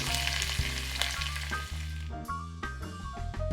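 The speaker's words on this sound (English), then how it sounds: "Heat over very low heat for 2 to 3 minutes to slowly transfer the aroma of the garlic to the oil" Garlic sizzles gently in oil in a pan over very low heat, a soft continuous frying crackle running under background music.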